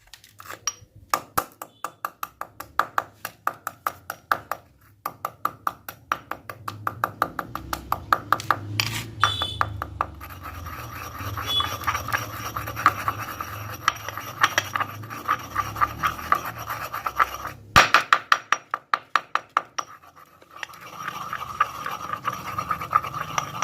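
A piece of copper sulfate is crushed to powder in a metal mortar and pestle, with rapid repeated sharp, ringing clinks and grinding scrapes continuing throughout, close and loud.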